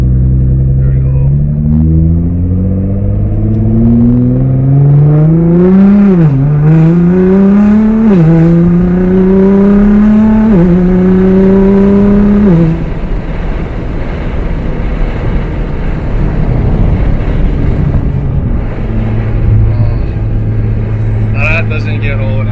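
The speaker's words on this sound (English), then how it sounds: "Let's do a slight pull, and you guys kind of get to hear the exhaust a little bit." Straight-piped Nissan GTR exhaust roars loud and close through a run of rising acceleration pulls with quick shifts around 4,000 rpm, then settles into a lower drone as it cruises.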